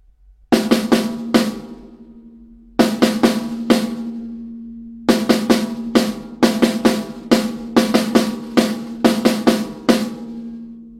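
Snare drum roll rudiment: clusters of three quick alternating-hand strokes followed by a single separate stroke, repeated in an even pattern, loud and close with no talking.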